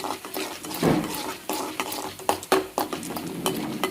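Coriander leaves, curry leaves and chillies sauté in a pan for kuzhi paniyaram batter, with a soft sizzle under repeated scraping and clinking strokes of a spoon against the pan, close and uneven.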